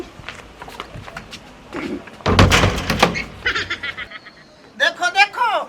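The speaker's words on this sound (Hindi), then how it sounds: "वो दरवाजा बंद करके" A door in a Hindi comedy sketch slams shut with a loud, abrupt thunk and rattle in the middle of the scene, between stretches of people talking, with a voice rising afterward.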